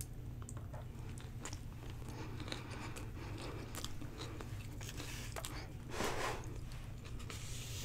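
Someone eats a sushi roll of crab, cucumber, cream cheese and rice very close up, with soft bites and continuous wet chewing, plus a louder crunchy bite near the end.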